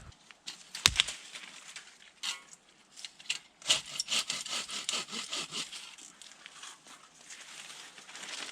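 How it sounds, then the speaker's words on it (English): A saw cuts through dead saplings for tarp poles outdoors at a campsite, giving a close, rasping run of strokes with a few sharp cracks and some faint birdsong. "So I just cut down 2 saplings."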